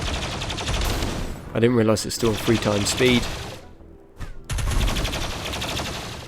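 Rapid bursts of gunfire from a Rimworld colony battle running at triple game speed, dense and continuous, with someone talking over the shooting partway through.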